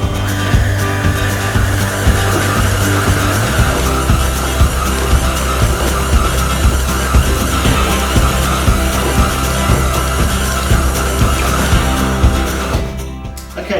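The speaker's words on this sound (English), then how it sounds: "now I can crank that up to 2 and we'll let that knead for about 5 minutes" A KitchenAid stand mixer kneads white bread dough with its dough hook at speed 2, giving a loud, steady motor drone with a rhythmic thumping and knocking that runs unbroken throughout.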